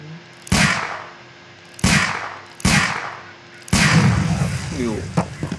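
Four sharp, loud pistol shots ring out in a video game, spaced unevenly over a few seconds with echoing decay after each, the last followed by a rumbling burst as a package is hit.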